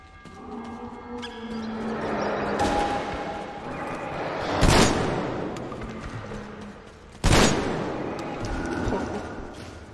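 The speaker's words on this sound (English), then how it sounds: "Just the sound of the shotty is really good" Two loud, sharp shotgun blasts a few seconds apart in the video game Metro Exodus, each cutting sharply through a steady bed of game ambience and music.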